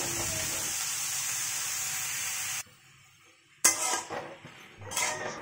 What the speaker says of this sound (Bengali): একটু আলু কাঁকরোল ভেজে নিলাম